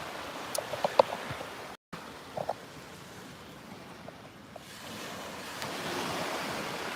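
Sea waves rolling onto Portobello Beach in Edinburgh on a bright day, a steady close surf wash with wind buffeting the microphone and a few small knocks near the start.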